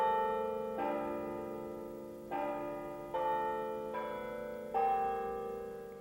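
Tower bells at UNC, run by a computer that a keyboard programs, ring alone in five evenly spaced, sonorous strikes, each clear and resonant and then decaying into a long lingering hum.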